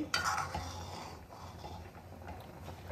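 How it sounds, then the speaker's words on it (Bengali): A spoon stirs dudh puli, rice dumplings simmering in milk with palm jaggery, inside a pot over a gas flame, giving a close scraping and clinking at first that settles into a soft, steady bubbling. "আস্তে আস্তে আমি একবার নাড়িয়ে দেব এটাকে"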